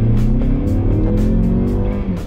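A car engine drones loudly and steadily as it drives, its pitch rising gradually as the revs climb, close and continuous.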